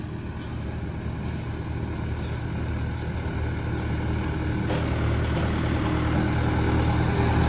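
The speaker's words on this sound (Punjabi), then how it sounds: "ਬਾਈ ਜੱਗਾ ਵੀ ਆਪਣੇ ਖੇਤ ਮਾ ਉਦਘਾਟਨ ਕਰਨ ਲੱਗਿਆ ਟਰੈਕਟਰ ਦਾ" A heavy tractor engine idles steadily in a farm field with a deep, continuous rumble, close and fairly loud, with no voices throughout.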